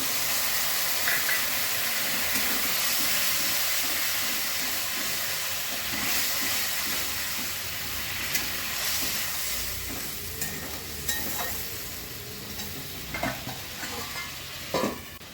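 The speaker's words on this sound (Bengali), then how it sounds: "জল দিয়ে দিচ্ছি।" Water is poured into a hot pan of frying doi fish in a home kitchen, giving a steady loud sizzle and hiss with stirring clatter throughout, no voices.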